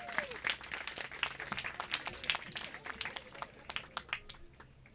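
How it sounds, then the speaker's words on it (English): Audience applause for Mayor Bryant at an outdoor ribbon-cutting for Robbins Heritage Park and Midlothian Creek, a moderate round of scattered claps from a crowd that thins toward the end, with some background murmuring. "Everyone give Mayor Bryant a round of applause one more time."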